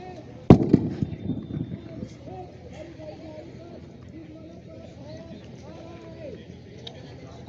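A single loud blank-fire crack during an NCC section attack drill at a PG college, followed by a rattling echo while someone talks loudly over the scene in the open air.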